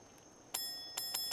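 Bell rung in a Fallout 4 settlement, four bright metallic dings: one, a pause, then three in quicker succession, with clear ringing overtones over a quiet background and no talking.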